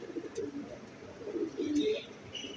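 Pigeons coo in soft, repeated low phrases, several calls overlapping at close range, with a faint higher chirp or two near the end and no speech.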